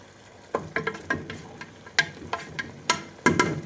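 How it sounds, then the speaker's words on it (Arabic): Chicken pieces frying with garlic and onion in a pan, a soft sizzle broken by a series of sharp pops and spatters at irregular intervals, fairly close. "دابا غنقلبو الدجاج بغا يتحمر على جوج جويد، يبقى يتقلب شويه، شي 10 دقائق يتقلب باش الثومه والبصله يتحمروا"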